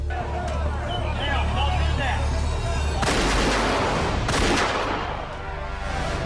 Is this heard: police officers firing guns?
yes